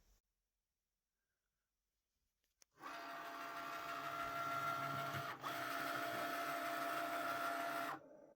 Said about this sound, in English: So that's the adaptive tool system working, and it's just making sure that I've got the right blade installed.